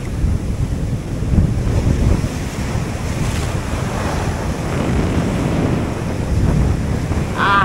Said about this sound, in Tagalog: Hintayin natin kumalma yung dagat.